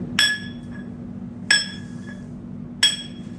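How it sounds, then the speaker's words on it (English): Three sharp metallic strikes from a piston drill at a mine museum ring out at even intervals, each with a brief ringing tail over a low steady hum. "This one's called the piston drill."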